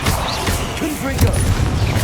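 Confringo fire spell blasts in the video game Hogwarts Legacy, a loud chaotic run of crackling bangs and impacts layered over continuous battle noise.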